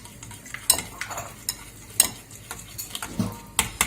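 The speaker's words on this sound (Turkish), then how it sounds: "Bunları güzelce çırpıyorum" Whisking ingredients for a cheese börek filling, with a series of quick clinking strokes against a bowl, irregular and close, no talking.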